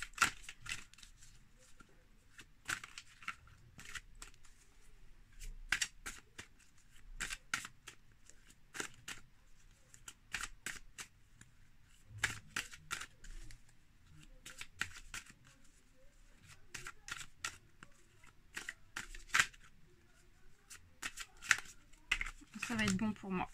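A deck of tarot cards is shuffled and cut, making faint, crisp riffling flutters and soft snaps in irregular bursts throughout, with quiet pauses between them.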